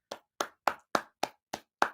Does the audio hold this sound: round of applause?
yes